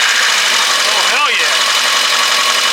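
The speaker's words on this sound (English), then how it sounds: "A little Rod Knocky, the Subaru never hurt anybody." A Subaru engine idles with a rod knock, a close, steady mechanical drone carrying a faint rhythmic knock, with a short rising and falling whine partway through.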